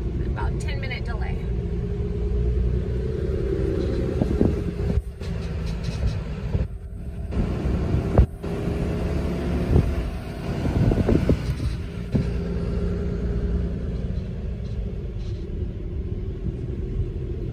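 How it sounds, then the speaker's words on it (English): Steady low rumble of car traffic while stuck on the Altamont freeway, heard from inside a vehicle, with occasional brief thumps and shifting engine tones throughout and no voices. "we're stuck in traffic here on the Altamont"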